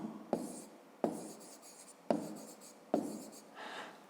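A pen scratches out a fifth-grade math solution on paper in four distinct strokes, each opening with a sharp tap and trailing into a soft scratch, close and quiet.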